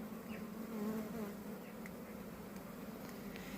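A steady, low droning hum of a honeybee swarm buzzing continuously, soft and even, with occasional individual insects passing closer.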